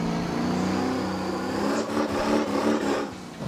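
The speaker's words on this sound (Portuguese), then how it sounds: "Vamos sair já cantando pneu aqui" A car in the game Motor Town pulls away from a delivery stop, with a steady loud engine drone and tyre noise over a few seconds, the tone wavering slightly as it accelerates.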